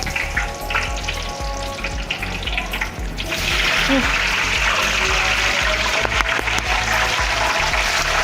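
Tahu petis tofu deep-frying in hot oil, a loud, steady sizzle that swells and brightens as pieces drop in and keeps crackling densely, with people talking nearby.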